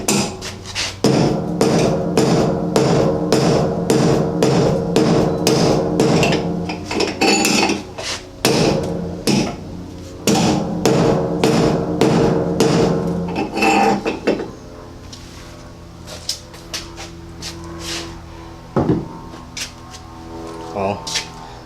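Sharp metallic hammer blows ring out in fast rhythmic bursts while a dent is knocked out of a Volvo 240 body panel, with pauses between, then sparser strikes later; someone talks nearby.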